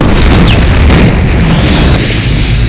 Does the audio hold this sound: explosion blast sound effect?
yes